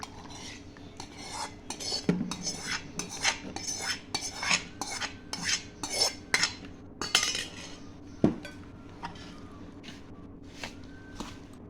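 A metal spoon clinks and scrapes against a bowl while mixing mango pickle with ginger garlic paste, a steady run of close stirring clatters and taps with no talk.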